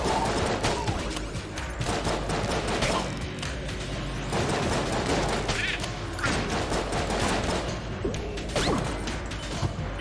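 A fast, destructive gun in the video game Enter The Gungeon fires in rapid bursts of sharp, loud shots mixed with mechanical clacks, crashes and whooshes, continuing densely across the whole stretch.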